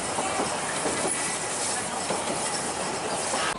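A train runs along a railway line skirting the foot of Mount Snowdon in Snowdonia, Wales, a steady, fairly close rumble with faint rhythmic clatter of wheels on rails throughout.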